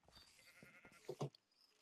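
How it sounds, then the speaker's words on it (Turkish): Sheep bleating inside the game Shards of the Void, one or two short bleats that come through clearly over soft background game sound, with a louder burst near the end. "Ha koyun ne işi var lan burada?"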